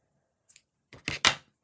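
A few quick, close scissor snips cutting yarn: a faint pair of clicks, then two sharper crisp cuts in a quiet room.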